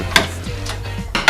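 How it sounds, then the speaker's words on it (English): Metallic clanks and scraping of a screw being forced into a hole in a computer case, a few sharp knocks over a low grinding rasp. "You want to hear a lot of banging and scratching sounds when you're building a computer."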